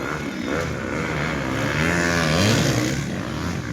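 A motocross motorcycle engine drones loudly and steadily at a motocross competition, its pitch climbing and falling as the rider revs through the gears.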